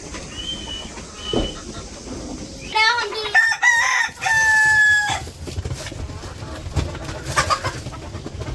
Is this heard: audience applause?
no